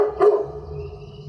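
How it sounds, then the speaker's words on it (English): A single short dog bark rings out in a forest, followed by a fading tail and quiet background ambience. "I hear the dogs very, very nice."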